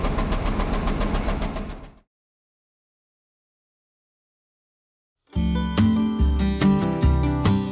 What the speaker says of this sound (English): the head with the engine and blade moves back and forth while the log remains stationary